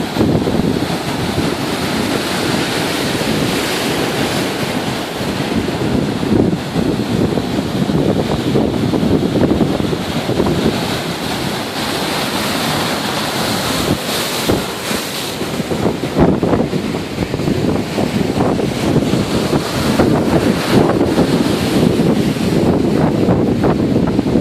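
Storm waves during a tropical storm smash against a pier and levee, a continuous heavy roar of surf with surges and crashes, mixed with strong wind buffeting the microphone.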